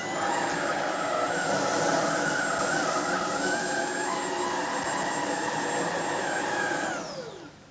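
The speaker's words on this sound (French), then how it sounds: "On va maintenant tester sur un tapis l'aspiration de l'aspirateur." Trouver Power 11 cordless stick vacuum cleaner running on a carpet in eco mode, a steady loud high whine with airflow roar, the motor winding down at the end.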